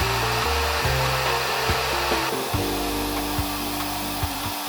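A handheld hair dryer fitted with a diffuser runs on low heat and low airflow, a steady close whooshing hum with a few brief bumps and shifts in tone as it moves through curly hair.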